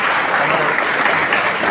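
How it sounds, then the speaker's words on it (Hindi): An audience in a hall breaks into loud, dense applause, a continuous wash of clapping from many hands that holds steady for a couple of seconds. "चलो जोरदार ताली हो जाए"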